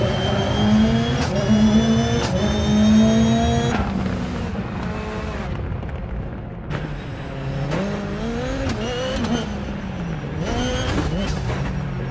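A rallycross car in the Dirt Rally 2.0 racing game at a Belgium event roars loudly throughout, its engine revving up and down through gear changes with tire noise, the pitch rising and dropping repeatedly.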